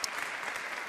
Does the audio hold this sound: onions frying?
no